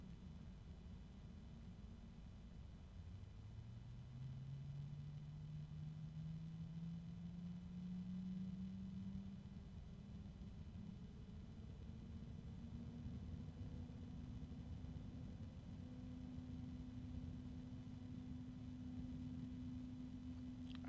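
Computer case fan running steadily with a low hum that slowly rises in pitch, plus a faint grinding undertone; fairly quiet and close, with no talking.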